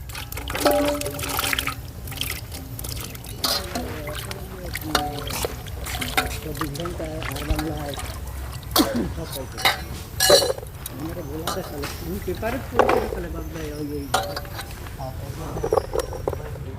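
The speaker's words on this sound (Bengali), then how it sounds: "কাটা আলুগুলো আমি পরিষ্কার জলে ধুয়ে নিচ্ছি" Cut potatoes washed in clean water, with splashing, pouring and trickling sounds in uneven bursts while a person talks over them.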